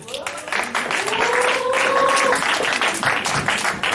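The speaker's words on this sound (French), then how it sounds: "On l'applaudit s'il vous plaît." Applause at a cabaret jazz club event, a crowd clapping steadily with some vocal whoops or sung tones riding over it, close and lively for a few seconds.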